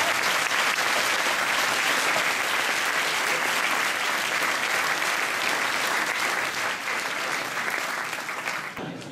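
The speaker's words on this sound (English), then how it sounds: "So if we can give her a round of applause." An audience at a school certificate presentation claps in loud, sustained applause that fades slightly toward the end.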